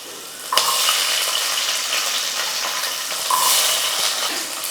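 Small shallots hit hot oil in a pan with a sudden loud hiss that settles into a steady bright sizzle, swelling again near the end, close by with no talking.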